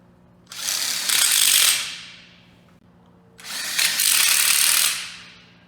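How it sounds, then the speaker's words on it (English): A power driver whirs twice in long bursts, driving a screw into a wooden wall frame module; close and loud, each run lasting over a second with a pause between, no talking. "Now screw it in."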